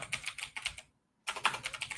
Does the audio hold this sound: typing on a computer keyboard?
yes